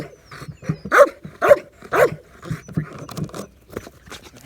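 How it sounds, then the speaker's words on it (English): A dog being trained for intense barking lets out a run of loud, close barks in quick rhythm, three strong ones in a row followed by rapid, softer yaps and patter. "I'm asking more and more and more barking"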